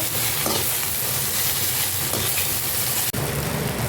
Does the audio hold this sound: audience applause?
no